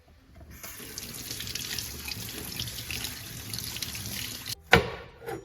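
Coriander leaves are rinsed under a steadily running kitchen tap, a soft continuous splash of water that ends with a sharp clatter just before the flow stops.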